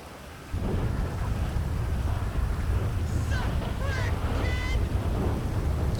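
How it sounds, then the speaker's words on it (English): Heavy rain pours down in GTA V, a dense continuous hiss after a sudden start, with a faint honk-like tone partway through and no speech over it. "it's a downpour down here."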